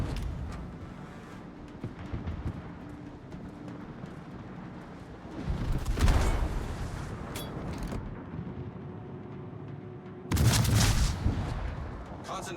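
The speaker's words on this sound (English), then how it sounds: "Concentrate fire on the enemy warship." Naval guns firing at an enemy warship in World of Warships, heavy booming salvos in two bursts around six and ten seconds over a steady rumbling battle background.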